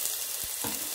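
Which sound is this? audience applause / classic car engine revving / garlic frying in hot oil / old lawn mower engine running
garlic frying in hot oil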